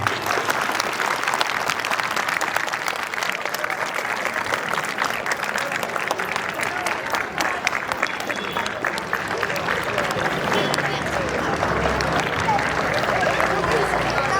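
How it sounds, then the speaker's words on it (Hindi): An audience at a Mallikarjun school in Dharchula applauds after a one-act school play on addiction, sustained dense clapping that stays loud and even throughout. "शायद ये तालियां बजती रहनी चाहिए"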